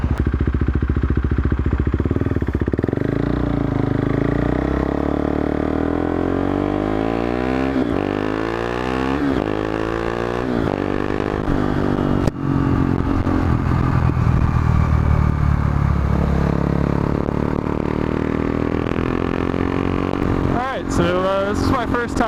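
A KTM RC390 motorcycle on a canyon run, its engine rising and falling in pitch through repeated accelerations and gear changes, with wind noise and a rider talking over it.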